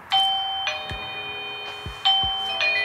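Wireless doorbell and its base station ringing together with repeated electronic ding-dong chimes, loud and close, sounding three times in succession with sustained ringing tones and no talk.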